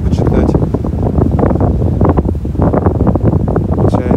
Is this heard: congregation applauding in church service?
no